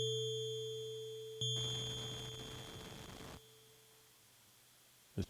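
A very low, steady sine tone from a Nord Micro Modular synthesizer sustains for several seconds, sitting alongside a few thin higher tones, with a brief swell of noise in the middle.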